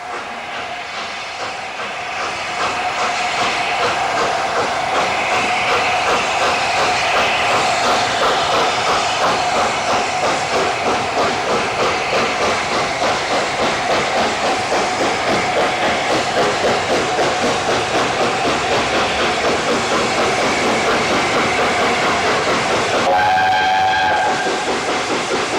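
The steam locomotive Mallard runs on the West of England main line towards Westbury, its chuffing and rolling wheels a loud, steady churn, with a brief two-tone whistle sounding near the end.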